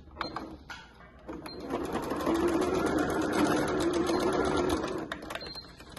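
A sewing machine stitches a tricoline cotton wallet. It starts with a few short bursts, then runs in one steady mechanical whir for about three seconds before stopping.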